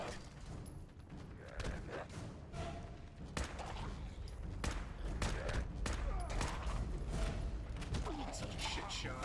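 Gunfire in Fallout 4, shotgun-style blasts and repeated shots mixed with clanks and impacts, fairly quiet overall, with talk running over the action.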